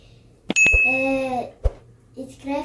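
A notification bell sound effect gives a bright, clear ding with a ringing tail, followed by a second softer chime, set against a brief spoken voice.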